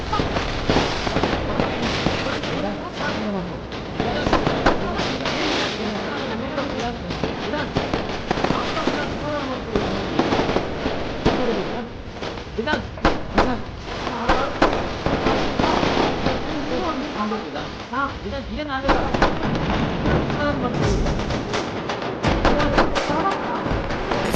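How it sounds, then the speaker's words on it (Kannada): Firecrackers burst in a dense, continuous string of loud cracks and pops throughout, with voices talking over them. "ಅದ್ ಯಾರ್ರಿ ಪಟಾಕಿ ಹೊಡಿತಾರದು?"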